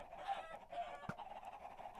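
Chickens in a Minecraft-style video game give faint, strained clucking squawks as they are killed, heard alone for a brief moment without talk.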